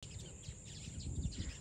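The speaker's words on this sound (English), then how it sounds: "Oh, look at the birds." Birds calling near a boat at a resort in Kerala, faint chirps and calls over a steady hiss of background noise.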